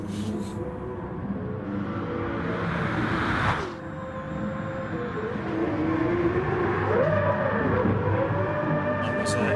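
A race car engine climbs in pitch as it accelerates during a 24-hour race at Fuji, its whine rising over a broad, roaring background rumble from a distance.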